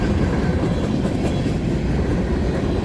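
Freight train hauled by five locomotives rolling past, with a loud, steady rumble and continuous rail noise throughout, close by.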